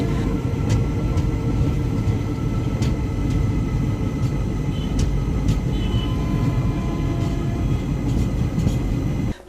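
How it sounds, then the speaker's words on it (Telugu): Special train 07219 on its inaugural Narasapuram to Arunachalam run rumbles steadily and loudly across the Penna river bridge near Nellore, with rhythmic clacks of the wheels over the rail joints. "ఇప్పుడే మన ట్రైన్ పెన్నా నదిని దాటుతోంది"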